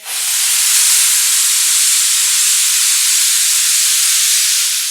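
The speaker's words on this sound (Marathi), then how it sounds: "चार शिट्ट्या झालेल्या आहेत मी गॅस बंद करते" A pressure cooker on a gas stove, cooking sprouted mixed pulses, lets out a loud, steady hiss of escaping steam that starts abruptly and holds strong and unbroken for several seconds.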